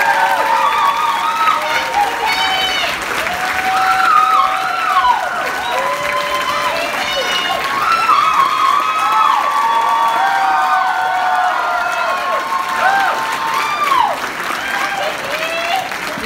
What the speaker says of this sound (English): A round of applause for our first year students who are going to take the stage.